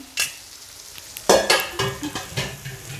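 Chopped okra stir-fried over high heat in a pan for crispy bhindi fry, with close scraping strokes of a spatula and a steady oil sizzle in short uneven bursts, no voices.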